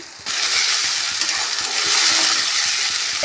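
Ginger garlic paste hits browned onions in a pan on a gas stove and erupts into a loud, steady sizzle after a brief quiet start, with faint stirring clinks underneath.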